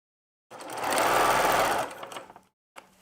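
Sewing machine stitching a quilted pillow cover, a close, steady whirring run of about a second and a half that slows and stops, followed by a brief faint knock.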